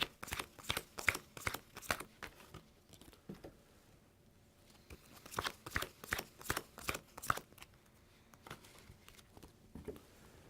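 Playing cards being shuffled and dealt during a game of Mercenaries: quick bursts of soft, crisp flicks and snaps, nearby and faint, clustered in uneven runs with short pauses between them.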